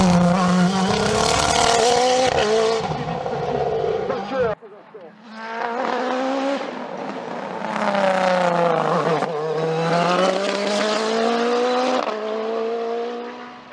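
An Ozella PA30 Turbo race car climbs a hill-climb course at Dunières in Auvergne, engine screaming loud and close through rising revs and gear changes, with a short cut before the high-pitched wail resumes and climbs again.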